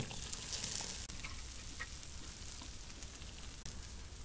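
Chopped okra frying in hot oil in a pan, a steady close sizzle with faint crackles and occasional stirring scrapes, continuous and fairly quiet, with no talking.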